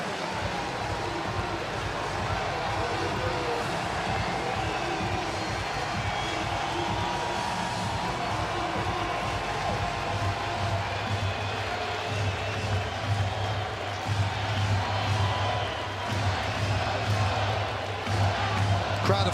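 Baseball stadium crowd of about 23,000 during a Yankees at Orioles game, a broad sustained roar of cheering and clapping with bases loaded in the seventh, rising toward the end, with an announcer talking over it.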